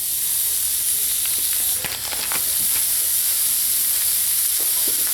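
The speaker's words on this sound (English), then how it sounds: "you want to get your skillet really hot, because what you're going to want to do is sear the pork" Butterflied pork chops sear in a very hot skillet, giving a loud, continuous close hiss and sizzle with a few faint crackles and no talking.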